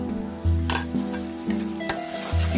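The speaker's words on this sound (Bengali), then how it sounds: "এবার ভালো করে ভেজে নিচ্ছি" Ground ghatkol leaf paste frying in soybean oil with turmeric and salt, stirred in the pan with repeated scraping strokes over a steady close sizzle.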